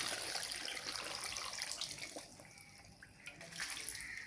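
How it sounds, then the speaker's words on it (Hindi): Water runs steadily into a cooking pot for chicken shami kabab, a soft continuous pour and splash that is fairly faint and close, with no talking. "मैंने इतनी डाल दिया पानी"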